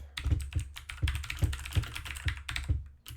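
Rapid, steady computer keyboard typing with crisp clicking keystrokes in irregular bursts, close and clear, with no voices.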